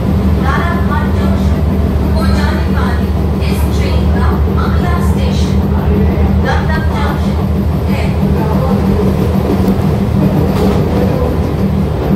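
An AC local train on the Sealdah–Ranaghat line pulls out of Bidhannagar station, its steady rumble and rhythmic wheel clatter filling the carriage loudly and continuously, with a faint voice now and then beneath the noise.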